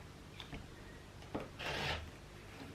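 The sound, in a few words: cutting quilt fabric along a ruler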